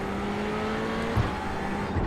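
A race car in a sim racing game set during a VLN 6-hour race: a steady engine drone with tyre noise, continuous and fairly loud, with a couple of faint low thumps.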